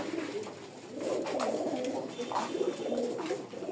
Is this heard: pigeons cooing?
yes